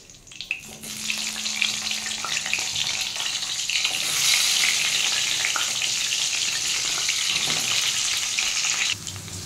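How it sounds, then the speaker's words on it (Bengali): Pointed gourd sizzles loudly and steadily in hot oil, a continuous crackling hiss that grows fuller partway through. "আমি এবার তেলের মধ্যে পটলগুলো ভেজে নেব"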